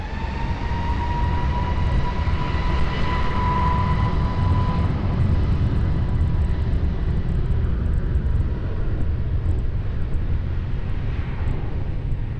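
An airliner takes off from runway 20 at Lisbon Airport with a loud, continuous roaring engine rumble and a faint whine, steady throughout with no voices.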